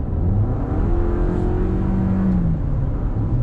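A 2021 Toyota RAV4 TRD Off Road's four-cylinder engine drones steadily under acceleration, its tone rising and falling slightly across the clip, heard from inside the cabin with no talking.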